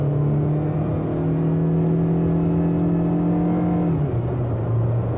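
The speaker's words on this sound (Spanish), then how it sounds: "Aquí uno puede tener la aceleración, escuchar." A Changan car accelerating, heard from inside the cabin: a steady engine drone rising in pitch, then dropping at a gear change, close and fairly loud with no talking.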